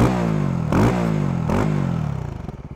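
Exhaust of a Voge 300 Rally motorcycle, a close, loud idling engine note blipped twice, then crackling and popping in an irregular stutter as it settles down.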